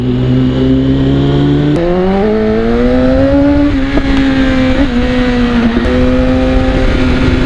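A motorcycle engine revs in a series of rising and falling throttle blips, loud and close, with a steady idle tone running between the pulls and no talking over it.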